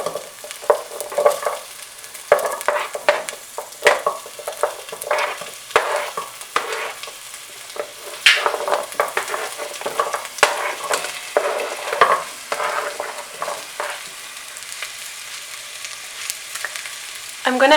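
Butternut squash and softened onions sautéing in a pot, with steady sizzling and repeated scraping, clattering stirs close by, no voices over the cooking.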